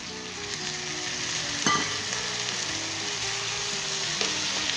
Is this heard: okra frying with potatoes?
yes